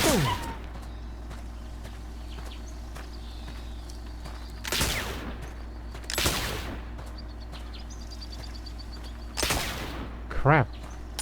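Gunshots during hunting in The Oregon Trail (2022) game: four separate sharp cracks spaced a couple of seconds apart over a steady low hum, with a brief animal-like squeal near the end.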